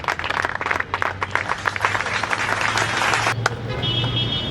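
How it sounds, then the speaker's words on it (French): An indoor audience applauds at the opening of the fifth school book fair organised by school publishers, dense clapping lasting about three seconds before fading, followed by a faint tone. "on peut l'applaudir avec un peu plus de chaleur."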